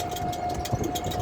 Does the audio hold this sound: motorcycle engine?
yes